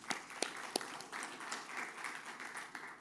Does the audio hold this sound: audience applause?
yes